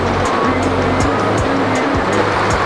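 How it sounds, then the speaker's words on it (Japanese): A babbling stream near a campsite: steady, loud rushing water fills the whole stretch without a break, and no voices are heard. "小川のせせらぎが聞こえてきませんか。"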